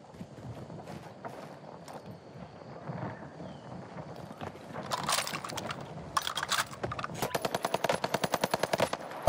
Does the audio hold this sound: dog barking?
no